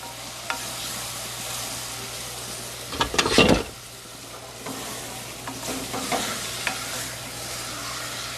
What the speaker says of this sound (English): I'm gonna mix my calabazas.